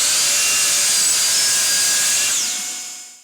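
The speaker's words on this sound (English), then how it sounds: "Once the top was cut to width on the miter saw" A miter saw cuts a workpiece of wood to width: a loud, steady high-pitched whine of the blade running through the board, holding for about three seconds before fading as the cut finishes.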